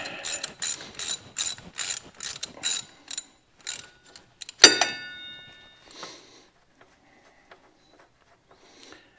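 A jack ratchets repeatedly as a Cub Cadet 1872 garden tractor is raised, with a rapid series of close metallic clicks, then a sharp clank and a few scattered lighter clicks fading into quiet.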